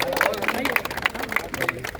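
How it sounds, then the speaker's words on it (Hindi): An audience at a protest gathering in Mukherjee Nagar claps on request, giving a short burst of brisk, uneven applause mixed with crowd murmur and a voice speaking over it. "ताली बजाइए एक बार"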